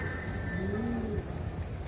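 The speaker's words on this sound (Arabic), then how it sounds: "حمام خطير هذا الحمام هذا" Racing pigeons coo softly, a couple of low hooting calls heard faintly against a steady background noise, with no one talking.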